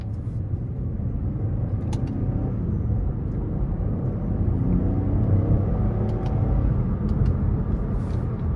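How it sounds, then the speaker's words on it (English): A 2013 Cadillac XTS with a V6 and 80,530 miles accelerates in manual mode using paddle shifts, heard from inside the cabin as a steady low engine drone and road rumble with a few faint clicks, no voices. "I'm gonna put it in manual mode and give it a little pull here with the paddle shifters."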